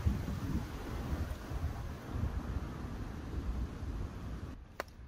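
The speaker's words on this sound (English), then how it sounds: "Bit windy there." Steady wind buffeting a microphone outdoors at a roadside stealth camp, a low rumbling roar rising and falling for a few seconds, with a faint tick near the end.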